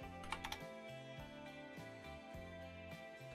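Typing on a computer keyboard while entering MySQL database settings: a few close, soft keystroke clicks over a steady tonal background hum.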